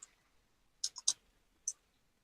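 Scattered keyboard keystrokes, a few sharp clicks spaced irregularly with short gaps between them, quiet and close with no voices.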